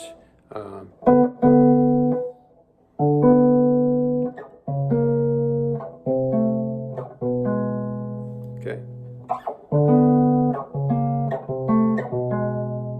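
An electric blues guitar plays a Chicago-style chromatic walk-down finger pattern on the 5th and 3rd strings, with clear plucked notes in a steady stepping rhythm; a voice speaks briefly.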